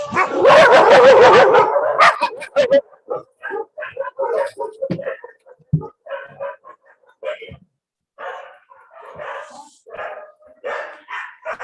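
Dogs bark outdoors by a fireside: a loud burst of rapid, overlapping barking up front, then scattered yips, whimpers and single barks trailing off at varying distances.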